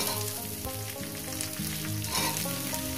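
Ingredients fry briefly in hot oil for a spinach dish with mola fish, making a steady sizzle with light stirring and a sustained tonal hum running beneath it.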